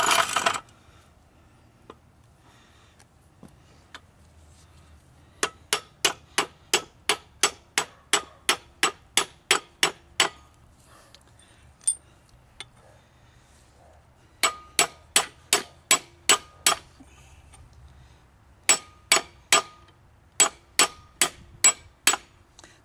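A hammer strikes a Jeep Wrangler TJ axle U-joint in a yoke with sharp metallic blows, delivered in several quick evenly spaced runs of ten or so hits, loud and close, with short gaps between runs.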